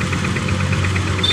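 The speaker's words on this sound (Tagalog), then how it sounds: "Ganyan ang tunog talaga mga idol pag na yung motor na natuyuan ng langis" Rough idling engine of a TVS 110 motorcycle that has run dry of oil, giving a steady rapid knocking rattle over a low engine drone, close and continuous with no talk.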